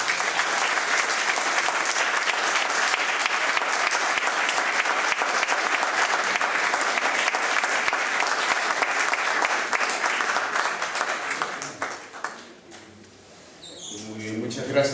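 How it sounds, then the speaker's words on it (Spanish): An audience at a graphic narrators' panel discussion claps loudly and steadily for several seconds, the applause thinning and fading out near the end. "decirles por favor un aplauso para ellos"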